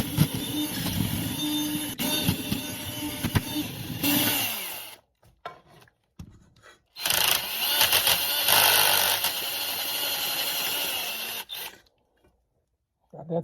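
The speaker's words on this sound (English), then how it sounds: "Let's ream it a little bit more." A hole in steel being reamed, while fitting a Rexbiti rivet nut setter kit, makes two sustained bursts of grinding, whirring tool noise, separated by a short pause with faint handling clicks, then quiet.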